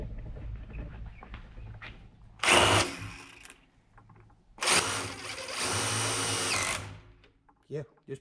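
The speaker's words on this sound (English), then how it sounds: "Tiffany wants to try her hand at the old DeWalt impact" A DeWalt impact driver driving a fastener into a pole barn house wall, heard as a short burst followed by a longer loud rattling hammering run of about two seconds, with people talking quietly around it.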